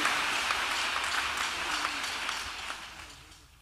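A church congregation applauding together, a steady wash of clapping that slowly fades over a few seconds.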